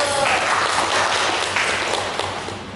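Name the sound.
audience applause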